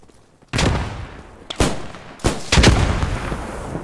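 In the video game Post Scriptum, a grenade explosion and gunfire sound as several loud, sharp blasts and shots with rumbling tails, close and without talk.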